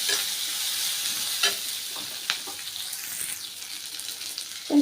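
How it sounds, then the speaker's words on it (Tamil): Onion sautés in a pan for ragi upma, a soft continuous sizzle with several scraping stirs of a spatula, close by and with no voices. "ரொம்ப இது ப்ரௌனிஷாக ஆகணுங்கிற அவசியம் இல்லை லைட்டாக வதங்கினா போதும்"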